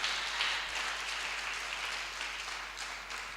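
A church congregation at a Sunday service applauds, a dense, steady wash of clapping from many hands that holds throughout and tapers slightly toward the end.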